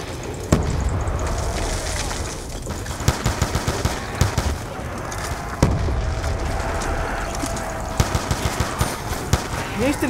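Rapid automatic gunfire from hip-fired weapons in Black Ops 2 Zombies, with dense bursts and sharp single cracks over a busy game soundscape, loud and continuous.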